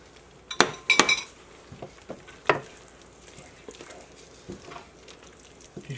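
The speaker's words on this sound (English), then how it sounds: "In goes the sausage." Sausage going into gravy in a pan: a cluster of sharp metal clinks from a utensil against the pan, then scattered softer taps and light stirring over a faint sizzle.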